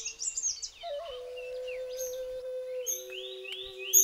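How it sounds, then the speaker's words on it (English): Malabar whistling thrush in the Western Ghats before sunrise, singing a clear whistled song of rising and falling notes and short phrases, close and alone over a steady low tone. "the songs of the Malabar whistling thrush, singing well before sunrise with its wonderful whistles"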